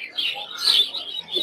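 Caged finches and other birds at a village bird market in Puthia, giving bright, high chirps and tweets in quick overlapping bursts, close and clear with no talk.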